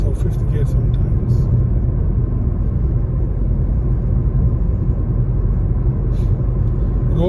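Steady low road rumble from inside a car driving at about 40 mph on a test route in Bury, Manchester, with continuous engine and tyre noise under someone talking.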